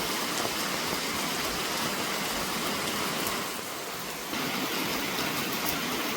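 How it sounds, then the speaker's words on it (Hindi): Heavy rain pours down steadily outdoors near a farm field, a dense, loud wash of noise that dips briefly before resuming, with no talking. "बहुत तेज़ वाली बारिश हो रही है"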